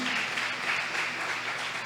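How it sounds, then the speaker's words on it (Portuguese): Steady applause from a church congregation, dense clapping that holds at an even level for a couple of seconds. "Vamos aplaudir o Senhor."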